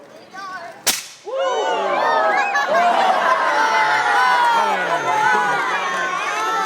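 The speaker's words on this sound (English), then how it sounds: "we're going to burn the hydrogen in the balloon" A hydrogen-and-air balloon ignites with a single sharp bang, followed at once by an audience of children cheering and shouting excitedly in a sustained crowd roar.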